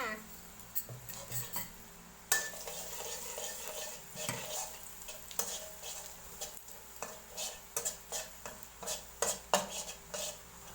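Garlic sizzles in a pan while a utensil repeatedly scrapes and clinks against the metal, giving irregular stirring knocks over a low frying hiss.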